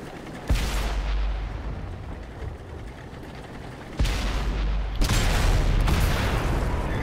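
Tank cannons boom in the video game World of Tanks, with heavy blasts at the start, near four seconds and near five seconds, and a dense rumbling battle din between them.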